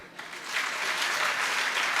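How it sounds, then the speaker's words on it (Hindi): An audience at a spiritual discourse breaks into loud, sustained applause, the clapping swelling quickly and holding as a dense, even wash. "इतनी जोरदार तालियां"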